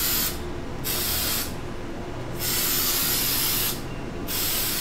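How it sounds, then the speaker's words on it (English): Airbrush paint spraying onto a cradle board being prepped for pouring and alcohol inks, heard as three steady hissing bursts separated by brief pauses, close and fairly loud over low background noise. "I'm letting it spray out and like feather down."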